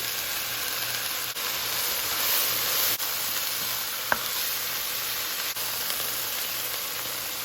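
Vegetables sizzle steadily in a pot as zucchini and corn are stirred in for a vegan tortilla soup. The frying hiss is constant and close, with a few soft clicks of stirring and no talking.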